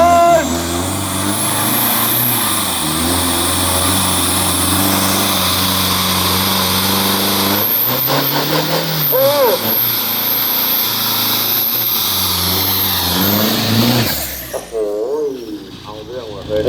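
Turbo SUV at a drag strip, its engine revving loud and high with rising and falling pitch, people talking over it nearby.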